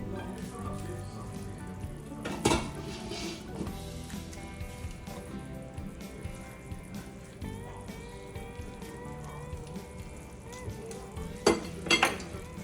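A pot of seafood gumbo stirred in a kitchen, with faint liquid sloshing, occasional utensil clinks against the pot and two sharper metallic knocks over a low background.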